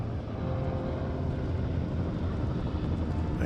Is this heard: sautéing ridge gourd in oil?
no